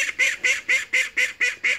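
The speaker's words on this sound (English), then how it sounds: "And the ducks." Ducks in a garden in France quack seven times in a quick, even run. The calls are nasal, close and clear, with no other sound.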